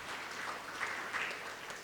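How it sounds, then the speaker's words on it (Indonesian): A church congregation claps together in praise during a worship service, giving a dense, even wash of applause that lasts a couple of seconds without a break. "Berikan tepuk tangan meriah buat Tuhan kita."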